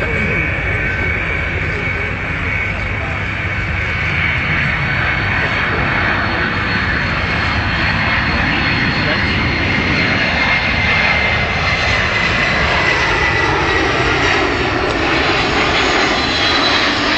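A DHL Boeing 757 cargo jet flies a display at an airshow with its landing gear retracting, its engines giving a loud, steady, broadband roar that fills the whole stretch without a break.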